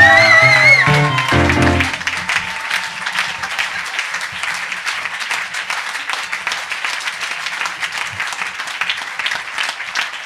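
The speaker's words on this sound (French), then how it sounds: "aux applaudissements pour Maëlys de Kerangal" Sustained audience applause at the 15th edition of the Livre sur les quais book festival, brief cheering and music at the start giving way to a steady, dense wash of clapping from a large crowd.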